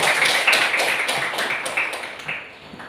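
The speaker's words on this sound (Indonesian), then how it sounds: "Tepuk tangan untuk semuanya." Audience applause at a school event for SD 20, a steady patter of many hands clapping in a room with a faint voice underneath, gradually thinning toward the end.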